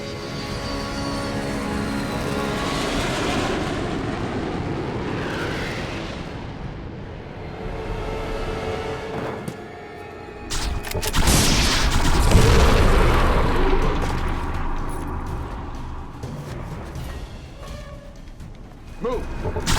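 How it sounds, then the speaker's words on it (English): Bombing-run explosions in an action sci-fi movie: deep rolling booms and a roaring aircraft pass swell and fade, then a heavy blast erupts into sustained rumbling debris and crackle, loud and close. "Start the bomb run."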